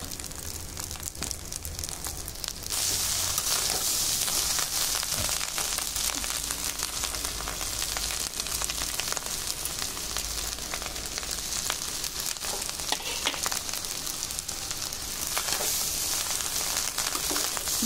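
Ghee sizzles steadily in a pan while Bengali fried rice is being cooked. The hiss is bright and continuous, and it gets louder after a quieter start. It stays close and fills the scene, with no talking over it.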